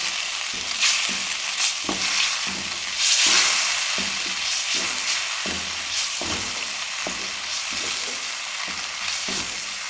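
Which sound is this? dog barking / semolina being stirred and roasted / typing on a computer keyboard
semolina being stirred and roasted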